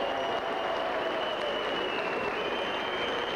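Boxing fans in an arena applaud steadily after the verdict in the Karsten versus Oakey bout, a dense, even wash of clapping from a large crowd that holds at full strength throughout.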